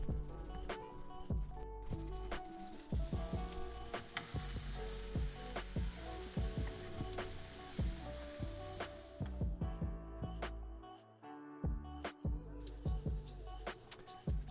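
Brussels sprouts with bacon and butter sizzle steadily in a pan, a broad hiss broken by frequent sharp stirring scrapes and clinks, close and loud, with the sizzle thinning briefly near the end.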